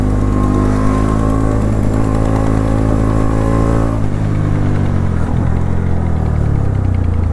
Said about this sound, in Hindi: आज देखो कितनी सारी बाइक्स हैं, NS 200, NS 200, NS 125, ड्यूक 390, एक मीटियोर है और R15 और एक और NS 200